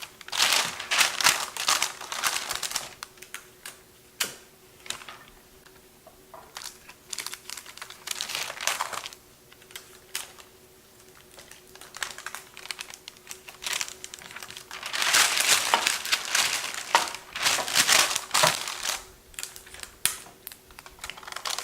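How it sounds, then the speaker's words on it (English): Tape pulled and pressed onto parchment paper lining a baking pan, making bursts of crinkling and tacky tearing sounds in several clusters, with quieter handling between them and no talking. "I'll place some tape on the parchment paper and just stick it to the pan"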